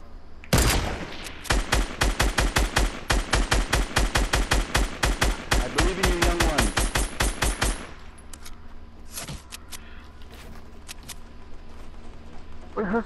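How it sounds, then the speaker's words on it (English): Rapid automatic gunfire in Fortnite, a long loud burst of evenly spaced shots lasting several seconds, then a few scattered single shots amid game ambience. "Where's this guy shooting from?"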